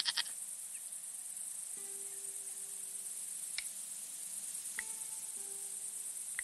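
Goat bleats twice in Broken Sword 5, each call a short sustained tone over a steady chirping insect ambience, with a few faint clicks between; no talking.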